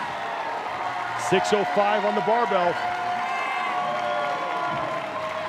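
Crowd noise at the 2023 Rogue Invitational max deadlift event, a steady murmuring roar with some cheering that stays under a commentator's voice for most of the clip.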